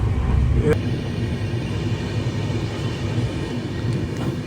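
Steady low rumble of a moving train in Uttarakhand, continuous and fairly loud, with faint rattling throughout.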